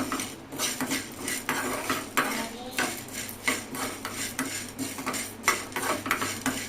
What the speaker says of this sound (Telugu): ఇలా తిప్పుతూనే ఉండాలి, లేకపోతే మాడిపోతుంది